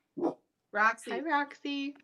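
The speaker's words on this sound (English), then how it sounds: "barking at the door because someone walked out of their apartment" A pet dog lying on the floor of an apartment barks and whines toward the door in a few short, close yelps, while a person speaks briefly over it.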